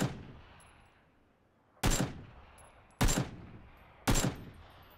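Three single gunshots from the video game PUBG, fired at about one-second intervals after a fading earlier shot, each a sharp loud crack with a decaying tail, with no speech.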